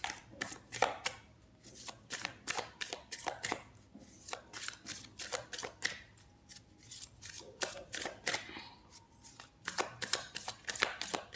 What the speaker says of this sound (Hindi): एक कार्ड और निकाल लेते हैं।